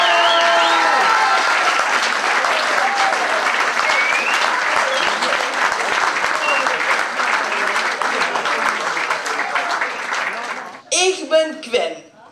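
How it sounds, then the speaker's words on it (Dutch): Loud, dense applause from a full audience at a youth carnival speech (buut) championship award ceremony in Limburg, sustained for about eleven seconds before breaking off into brief voices. "weer geven we dit over een daverend applaus"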